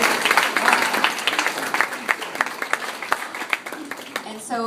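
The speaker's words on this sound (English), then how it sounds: "So give yourselves a round of applause." A banquet audience applauds with dense, steady clapping that fills the room at a fairly even level and thins out in the final moments.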